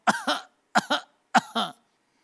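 Three bursts of a coughing sound, each a quick double cough, spaced evenly and close up; a voice imitating a small child's cough.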